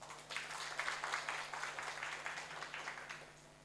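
An audience at a public speaking seminar claps together steadily for several seconds. The applause is soft and somewhat distant, with a constant low hum underneath.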